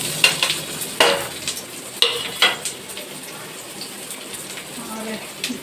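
Onion and tomato masala for a potato curry sizzles in a pan, with several scraping stir strokes cutting through a steady, fairly close frying hiss.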